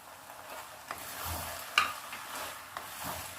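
A spoon scrapes and stirs keema with cubed tomato in a pan under a faint low sizzle, with a few sharper knocks, quiet and close.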